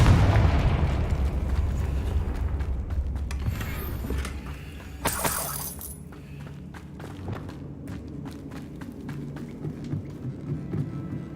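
Confringo blasting spell in Hogwarts Legacy, an opening boom and rumble that fades, followed by sharp bursts and crackles, then scattered footsteps and clatter at moderate loudness.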